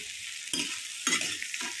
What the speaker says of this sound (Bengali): এই দেখতে পাচ্ছো পেঁয়াজ লাল লাল করছি